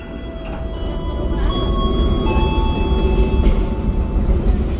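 Sawunggalih economy premium passenger train running on rails between Arjawinangun and Cirebon, heard from inside as a steady, loud rumble of wheels and carriage noise with faint tonal whines, no talking.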